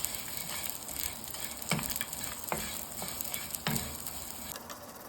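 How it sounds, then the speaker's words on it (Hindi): Panjiri ingredients being dry-roasted in a pan over very low heat, a soft continuous sizzle with scraping and stirring strokes and a few sharper clicks, close and moderately quiet with no talking. "इसको बहुत हल्की आंच पे भूनना है, जल ना जाए"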